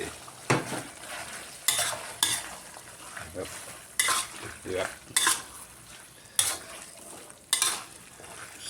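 Wild boar pork cooking in coconut milk for a spicy stir-fry with green peppercorns, krachai and curry paste: repeated scraping spatula strokes against the pan, about seven in a loose rhythm, over a soft simmering sizzle.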